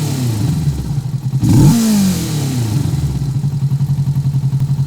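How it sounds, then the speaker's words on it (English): A motorbike engine idles with a rapid, even pulse, then is revved once in a sharp, loud burst before dropping back to a steady, throbbing idle close by. "Let's hear a bit of revs to see how that sounds."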